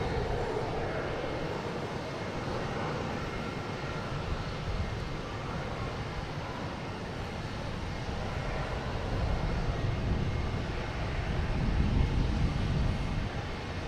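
A Delta airliner passes overhead near Boston Logan Airport, its jet roar a broad, steady wash that grows slightly louder toward the end, with no voices.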